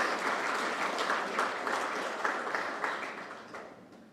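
A room of guests applauds at the launch of Guyana's national gold and jewellery brand, a dense, even round of clapping that holds steady and then tapers off toward the end.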